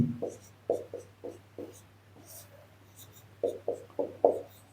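Chalk or marker strokes on a board during a maths lecture on squares and square roots, a rhythmic series of short scratchy taps in bursts with a pause between groups over a low room hum.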